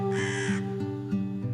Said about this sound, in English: one morning I heard a single bird calling